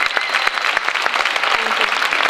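Applause from an audience at a talk on Covid-19 vaccine adverse reactions, individual claps standing out sharply in a brisk, fairly sparse rhythm, close and steady throughout.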